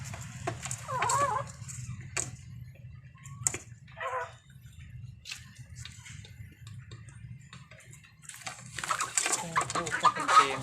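Chickens cluck in short, scattered bursts over a steady low background hum, some calls near and others fainter, with a livelier cluster of calls near the end.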